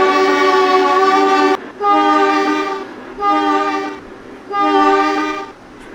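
A Shinkansen train inbound to Houston station in the Trainz video game sounds a loud, long horn blast, then three more shorter toots in a steady rhythm.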